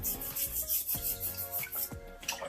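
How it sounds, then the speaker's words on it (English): Toothbrush scrubbing a piece of aquarium rock, quick close back-and-forth bristle rubbing in a steady rhythm. "we're just going to give this rock a quick scrub"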